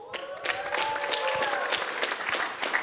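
Loud, dense applause from an audience at a hall of fame awards panel, many hands clapping steadily for about three seconds with no break.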